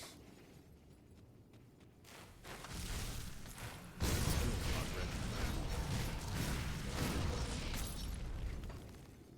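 Explosions from enemy dogs during a video game fight, a dense, continuous barrage of booms, pops and crackling bursts that jumps louder about halfway through and stays heavy to the end.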